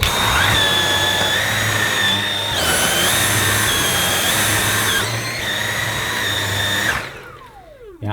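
A Dyson V8 Absolute cordless vacuum cleaner runs with its brush roll spinning, giving a loud, steady high-pitched motor whine that shifts pitch partway through and then spins down at the end.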